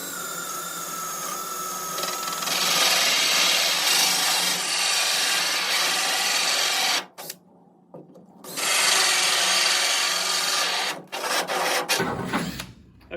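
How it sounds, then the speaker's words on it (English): A power drill bores into laminated particle board with a loud, steady grinding whir that cuts out briefly partway through, starts again, and then winds down near the end. "I'm gonna begin to drill."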